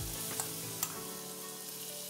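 Garlic fries in olive oil with coriander nearby, a steady, fairly faint sizzle heard alone, with a couple of small crackles.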